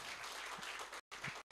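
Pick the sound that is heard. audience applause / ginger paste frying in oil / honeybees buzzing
audience applause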